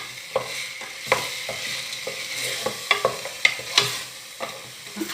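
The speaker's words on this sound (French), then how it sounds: "on a fait revenir un peu la viande avec l'oignon, l'ail, on rajoute la sauce tomate" Meat frying in a pot with onion and garlic as tomato sauce is added for couscous, a soft continuous sizzle broken by repeated scraping stirs and clinks of a utensil against the pan, close and without talk.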